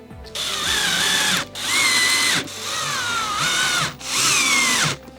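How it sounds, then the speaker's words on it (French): Power screwdriver driving wood screws through cabinet hinges into a wall cabinet front, four loud whirring bursts of about a second each, rising in pitch as they run, separated by brief pauses. "vous viendrez les visser à l'aide des 4 vis à bois qui étaient dans votre sachet de charnière"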